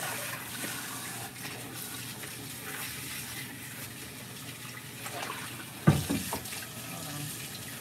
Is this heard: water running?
yes